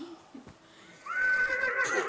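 A horse in the Minecraft video game gives a loud, rising whinny lasting about a second, preceded by a few faint short sounds and soft background noise.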